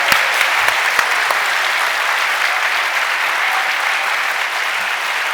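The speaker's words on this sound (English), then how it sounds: "So, well, we should have everybody, a round of applause for Trevor, yes, please" Steady, dense applause from a crowd, many hands clapping continuously at close range with no pauses.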